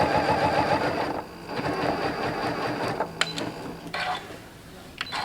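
A sewing machine whirs in steady bursts while stitching in the ditch along the seams of a quilt, with short pauses and soft mechanical clicks between runs, heard close up.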